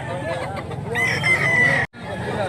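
A rooster at a Cebu gamefowl market crows once, a loud, strained call lasting nearly a second. It rises over a chorus of clucks and murmuring voices, then cuts off sharply.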